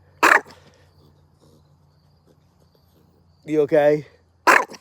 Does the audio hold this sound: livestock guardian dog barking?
yes